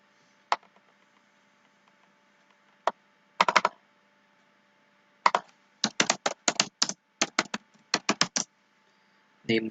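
Clicky computer keyboard keys typed to enter a file name, sparse single taps early, then quick bursts of keystrokes in uneven clusters, close and crisp against a quiet background with no talking.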